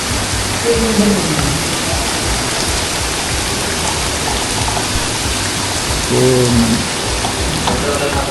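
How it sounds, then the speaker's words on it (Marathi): Water falling over the Ganpati Gadad caves makes a continuous loud rushing roar, with someone speaking briefly over it at the start and again near the end. "हा पूर्ण लेण्यांचा समूह वरून धबधबा पडतो"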